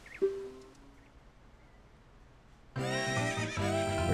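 A horse in Ocarina of Time lets out a short call, then after a pause a loud, drawn-out whinny rings out clearly on its own, rising and falling in pitch.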